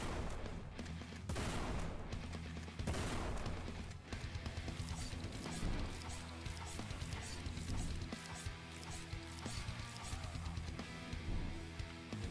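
Submachine gun fire in a shooter video game, with rapid bursts of shots and sharp impacts over a dense, busy game soundtrack, continuous and loud throughout.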